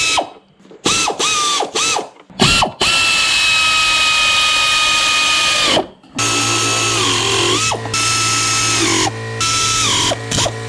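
A power tool runs bolts into the upper timing cover of a Toyota 1MZ-FE V6, several loud close whirring and ratcheting bursts with short pauses, ending in a long steady run.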